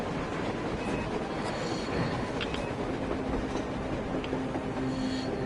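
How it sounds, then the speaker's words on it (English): A train running on the surface in the Metro video game, a dense, steady rumble of rolling wagons with faint clatter, continuous and fairly loud. "A damn train on the surface!"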